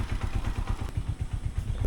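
A motorcycle engine idles close by with a steady, rapid chug of low pulses and a faint mechanical clatter above it, running continuously with no talking.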